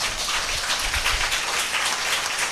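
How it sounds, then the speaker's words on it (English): A church congregation claps together in a sustained, dense burst of applause that fills the space evenly and loudly, with no voices rising above it. "Give a mighty clap to God."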